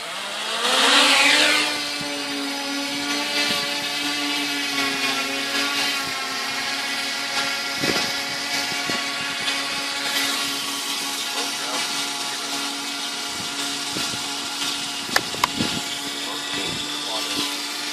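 A quadcopter drone on an auto mission over fields gives a steady high-pitched motor whine, louder at first as it lifts off and then holding a constant drone, with a few brief clicks near the end.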